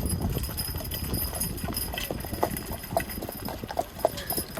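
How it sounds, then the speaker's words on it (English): A team of horses pulls a Christmas sleigh through a residential neighborhood in winter, their hooves clip-clopping in a steady, uneven patter close by, with no talking. "a gentleman driving a team of horses, pulling not a hayride, but a horse-drawn Christmas sleigh ride"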